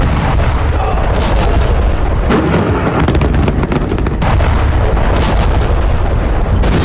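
Bombing in Syria, with dense, continuous booms and blasts rumbling heavily at high loudness and sharp impacts scattered throughout.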